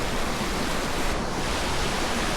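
Steady, loud rushing water from Horseshoe Falls and its small creek in Tasmania, a dense broadband roar filling the whole stretch without pause, close by and with no voices over it.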